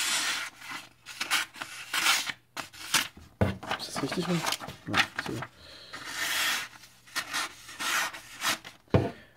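A Böker Pocket Khukri pocket knife slices through paper in short, close scraping and rustling strokes, broken up by a voice speaking between the cuts.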